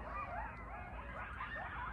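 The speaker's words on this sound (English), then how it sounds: "That doesn't even sound like humans. It's dogs." Several dogs bark, yelp and snarl as they fight, a dense continuous outdoor racket with wavering cries heard from some distance and no speech.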